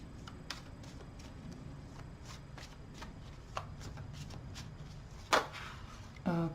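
Tarot cards are shuffled for a reading in soft, quiet riffling flicks, close by, followed by a couple of sharper handling knocks near the end.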